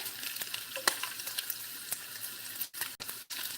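Bacon sizzles in a heating skillet on its way to crispy, a steady close crackle and hiss with scattered pops and a few brief clinks of a utensil near the end.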